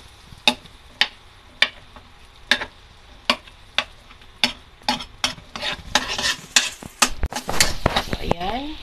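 Shrimp cooking in melted butter in a pan, with sharp scraping and tapping of a utensil on the pan over a faint sizzle, growing busier toward the end.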